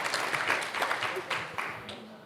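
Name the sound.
audience applause at a conference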